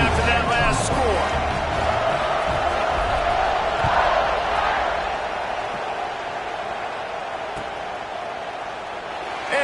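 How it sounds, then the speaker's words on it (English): Football stadium crowd buzzing after a score in a tied game in the third quarter, a loud, dense, continuous roar that eases slightly partway through, with a commentator talking over it. "this crowd is buzzing after that last score"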